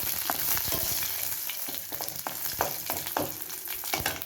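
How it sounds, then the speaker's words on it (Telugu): Dried red chillies, cumin and sesame seeds fry in a pan with a steady crackling sizzle, broken by repeated sharp pops and scrapes as the spices are stirred. "ఈ వేగుతూ ఉండగా మనం నువ్వుపప్పు వేసుకుందాము"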